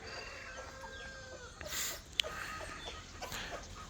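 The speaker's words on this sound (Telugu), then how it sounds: "డిఫరెంట్ డిఫరెంట్ వెరైటీస్ కోళ్ళు ఉన్నాయి ఇక్కడ" Chickens of different varieties cluck softly at a distance on a farm, over quiet outdoor ambience, with a brief louder squawk in the middle.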